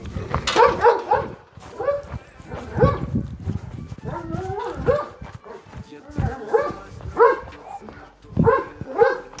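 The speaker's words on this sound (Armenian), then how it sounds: "Դա վտանգավոր շուն է" A dangerous dog barks in repeated loud bursts with yips and whimpering howls in between. A voice talks over and between the barks.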